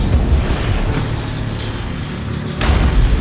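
A tank fires with a heavy explosive boom, its loud low rumble decaying into a quieter gap before a second burst of blast noise hits near the end.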